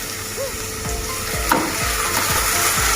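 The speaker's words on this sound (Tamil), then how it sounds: "இதை நல்லா வதங்க விடணும்." Leeks, garlic and carom seeds sauté in hot oil for a Sri Lankan garlic soup, giving a steady close sizzle with a few soft stirring scrapes throughout.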